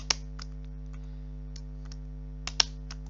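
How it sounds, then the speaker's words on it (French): Sparse, separate keyboard key presses, close up, a few sharp clicks at an irregular pace over a low steady hum. "Je vais me rapprocher du clavier pour que vous l'entendez bien."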